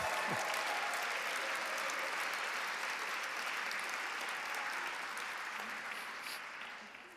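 Applause from a gala audience, a broad, even roar of many hands clapping at moderate loudness that gradually fades toward the end.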